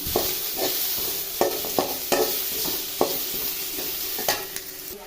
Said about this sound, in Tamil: எல்லாத்தையும் சேர்த்து நல்லா வதக்கி எடுத்துக்கலாம்